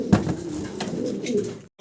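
A lively male Modena pigeon coos loudly and close, with a rolling, throaty call running for under two seconds before cutting to silence.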